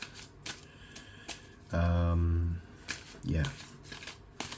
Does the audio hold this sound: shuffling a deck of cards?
yes